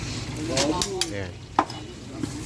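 Chopped sisig pork sizzles loudly on a hot griddle at a busy street food stall while being stir-fried, with scraping spatula strikes and clanks over a constant hiss and faint background chatter.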